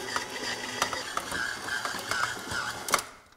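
A stand mixer kneads soft pretzel dough at medium speed, giving a steady mechanical whir and motor hum with repeated clicks and knocks as the dough thumps against the bowl, close and continuous.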